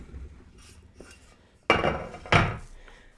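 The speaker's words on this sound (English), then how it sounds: "So I'm going to switch my pans." Metal muffin pans are swapped while baking peanut butter cup poppers, producing two sharp clattering clanks of metal, close and loud, about half a second apart.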